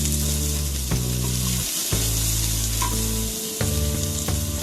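Steady loud sizzling of onions frying in a pan with turmeric and salt, with occasional stirring scrapes and a low hum underneath, no voices.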